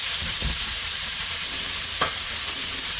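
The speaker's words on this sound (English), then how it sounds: "So we can get that shaved steak in there. Pan's nice and hot." Shaved steak frying in a hot pan for cheesesteak rolls, a steady bright sizzle with a couple of brief stirring scrapes, close and continuous.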